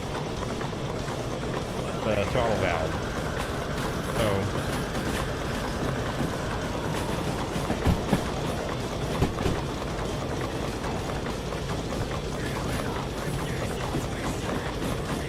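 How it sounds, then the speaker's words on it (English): A steam locomotive train in the railway game Derail Valley rolls over track switches with faint rhythmic clicks and clunks under a continuous rumble, while someone talks over it. "watching the tail of the train there coming through those switches."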